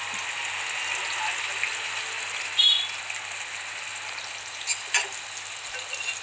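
Fish pieces frying in a pan of oil, a dense, continuous hiss and crackle like light rain, with a few sharper pops and a brief clatter, close and alone without speech.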